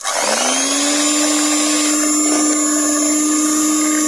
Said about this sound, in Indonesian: Kita putar dulu tanpa dinyalakan mixernya. Nah, sekarang kita nyalakan.